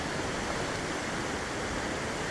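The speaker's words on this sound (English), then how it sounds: "There's the waterfall from the spillover right there." A dam spillover waterfall near Ketchikan, Alaska, roars as a loud, dense, steady rush of falling water, continuous and close with no voices.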